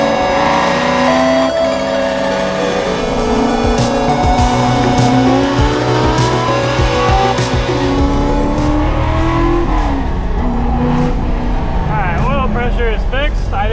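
A NASCAR-inspired Ford F100 truck drives mountain roads, its engine loud and constant with rising and falling revs, a few tire squeals, and a person talking over the noise.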